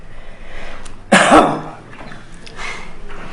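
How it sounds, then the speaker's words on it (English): A single hard, forceful cough up close, standing out sharply from a quiet background hiss. "Cough hard."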